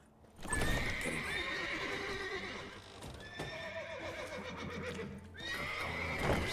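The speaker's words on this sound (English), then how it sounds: "Gotta call in the horses before they wake the guards." Horses in The Witcher 3 video game neigh and whinny loudly over steady clip-clopping hooves, with a second whinny near the end and no talking.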